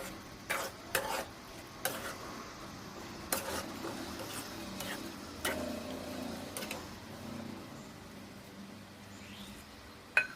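Chicken curry with yogurt and water being stirred in a pan, a spoon scraping and tapping the metal in intermittent ticks and knocks over a low simmering hiss, close and quiet.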